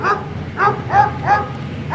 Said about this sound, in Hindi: कुत्तों के भौंकने की आवाजें आ रही थी।